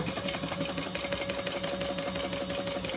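A sewing machine stitches steadily and close up, a continuous rapid mechanical whir with a faint tonal hum, no talk over it, while sewing a family travel organizer.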